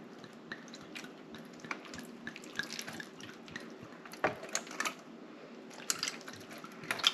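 Water trickles and drips onto seed starting trays indoors, faint, close-up splashes and soft patters in an irregular rhythm over a quiet background.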